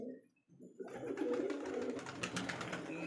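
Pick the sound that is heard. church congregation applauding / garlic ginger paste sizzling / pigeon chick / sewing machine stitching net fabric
pigeon chick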